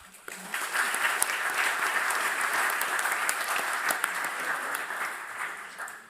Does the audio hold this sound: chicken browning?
no